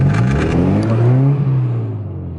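A Subaru engine revs hard and strains while towing a stuck car out of a roadside ditch, a loud, sustained, slowly falling drone with some scraping, close by and without talk.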